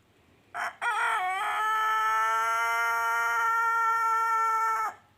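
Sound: rooster crowing

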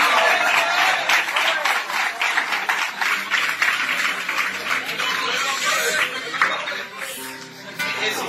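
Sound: audience applause

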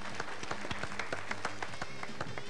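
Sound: applause for the contestants

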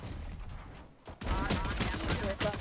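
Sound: gunfire in the video game Valorant

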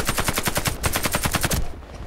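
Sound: AK-103 rifle gunfire in video game Warface

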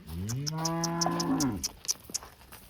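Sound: cow mooing on a farm

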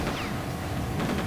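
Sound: gunfire shooting at player in video game Quake 2

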